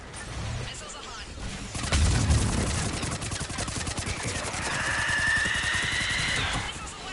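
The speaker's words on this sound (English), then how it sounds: "Missiles away." A missile salvo fires in the game Mass Effect 3, heard as a sudden loud launch followed by a sustained rapid rattle of repeated bursts, with a rising whine near the end and voices in the background.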